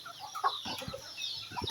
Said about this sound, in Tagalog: Kaya yung mga manok natin dito na lahat to, yung mga sisiw humingi ng pagkain.